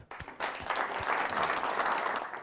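An audience at a talk by a pastor claps steadily for the guest: a dense, even wash of applause that fills the whole stretch, with little talk.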